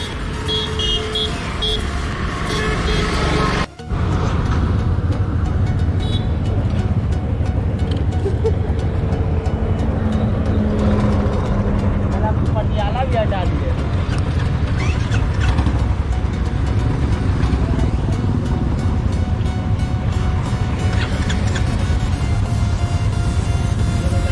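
A group of Royal Enfield motorcycles, 2021 BS4 and BS6 models, sets off together on a group ride: a dense, continuous rumble of engines close by, with scattered horn toots and a brief dropout near the start.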